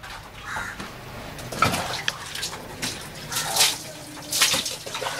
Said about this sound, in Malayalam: ഷീറ്റ് കഴുകുന്നതിനായി സഹായത്തിനാണ് ഷാഫിയുടെ വെള്ളം കോരുന്നത്.